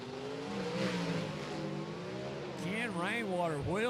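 Drag race cars launch side by side at Rockingham Dragway, their engines roaring loud and close in a sustained blare. A sharp rising-and-falling rev surge comes near the end, and an announcer talks over the engines.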